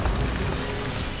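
An Incendio fire spell cast in Hogwarts Legacy lands as a loud whooshing boom, a broad roaring burst that fades slowly through its length, with no talk over it.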